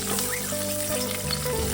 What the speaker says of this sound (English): That's the kind of sizzle we want.